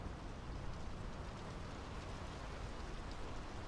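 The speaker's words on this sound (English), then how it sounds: "The rain's picking up." Heavy rain in the video game Draugen, a dense, steady hiss of downpour with no breaks, faint overall and without any voices.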